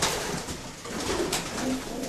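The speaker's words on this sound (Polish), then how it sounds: "Mój najszybszy gołąb." Soft racing pigeon cooing, a few low throaty calls over a steady noisy background, moderately close.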